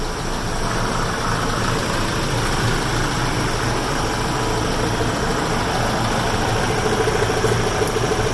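Engine of a Ford Everest or Ranger idling just after a 12-volt jump start: a steady, close, droning rumble with even vibration throughout and no voices.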